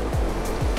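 Fast-flowing water on the Provo River rushes in a steady, broad roar close by, with no talking over the churning flow.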